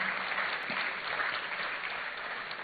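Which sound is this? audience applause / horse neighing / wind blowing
audience applause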